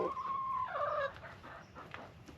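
Backyard chickens cluck and call close by, several short vocal bursts in the first second followed by scattered softer clucks, with no talking.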